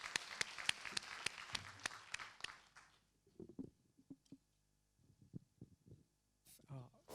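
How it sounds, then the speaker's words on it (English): Audience applause at an academic best paper award presentation, dense clapping for about three seconds that breaks off abruptly, followed by faint shuffling and scattered small clicks in a quiet room. "congratulate them with a round of applause"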